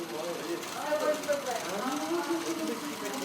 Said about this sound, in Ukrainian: Зранку в волонтерському центрі активно працює швейна машинка.